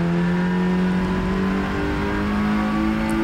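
An Audi RS3 touring race car at the Hungaroring circuit revs hard and builds speed, its engine note loud, steady and close throughout, with no talk over it.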